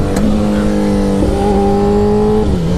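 A motorcycle engine revs hard during a wheelie in second gear, a loud sustained buzzing drone with steady pitch that climbs slightly midway, close and continuous without speech.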